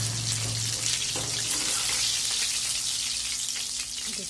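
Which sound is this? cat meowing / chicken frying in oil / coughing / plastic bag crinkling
chicken frying in oil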